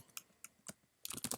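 Computer keyboard typing heard close and quiet: a few scattered key clicks, then a quick run of rapid keystrokes at the end.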